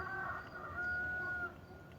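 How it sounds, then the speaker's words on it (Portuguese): A rooster crows at night, a faint, distant, drawn-out call sitting low under steady background noise. "já quase 11 horas da noite tem galo cantando"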